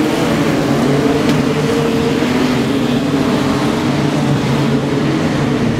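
Modified sedans circle Kingaroy Speedway at a race restart, a dense, steady roar of several engines droning together at mid distance with no gaps or pauses.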